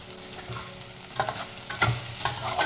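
Potatoes seasoned with salt and turmeric fry in a pan over low gas, giving a steady close sizzle broken by a few scraping stirs, with no voices.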